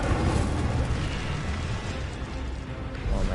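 Incendio fire spell cast in Hogwarts Legacy during a PS5 boss battle, a steady roaring burst of flame and rumble lasting a few seconds, loud and dense with no talk over it.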